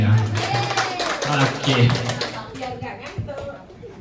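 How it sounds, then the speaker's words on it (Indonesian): Applause from an audience at an Indonesian teachers' gathering: a burst of clapping mixed with voices and speech, fading out toward the end as someone starts talking. "Tepuk tangan untuk semuanya."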